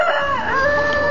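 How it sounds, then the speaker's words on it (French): A rooster crows loudly and close by on a small poultry farm, one sustained wavering call filling the whole moment with no talking over it. "Vous l'avez entendu, le coq était occupé."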